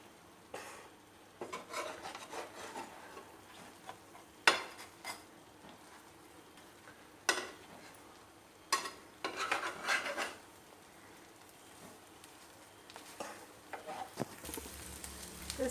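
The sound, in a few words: burger bun frying and being turned on a tawa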